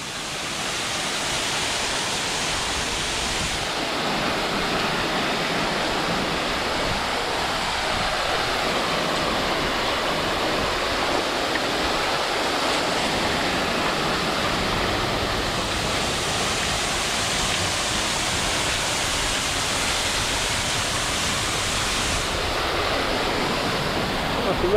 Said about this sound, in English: There's a lot of water thundering down there.